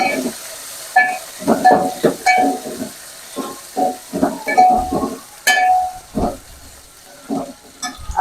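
Curry leaves and coriander crackle as they hit hot oil in a tempering, giving bursts of sizzling and stirring against a pot, with a voice speaking over the cooking.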